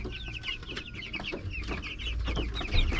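Dekalb Brown chickens, about two months old, clucking steadily up close, several birds chattering at once with a low background rumble.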